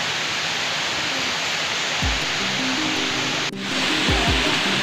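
Constant rushing of the Coban Canggu waterfall in Pacet, Mojokerto, Indonesia, a steady broadband roar close by, with a few brief low tones and a soft click partway through.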